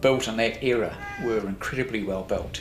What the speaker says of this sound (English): And yes, that is a cat you heard.